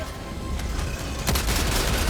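Heavy gunfire and booming blasts in Helldivers 2 on PS5, a dense, steady barrage that grows louder and busier partway through, with no talking.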